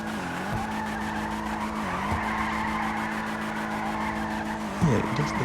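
Tires skid and squeal continuously as a Dinka Chavos V6 spins donuts in GTA Online, with a steady engine drone beneath and a brief louder burst near the end; no talk.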